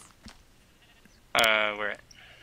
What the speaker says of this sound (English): Definitely have a family of sheep that are living out here, though.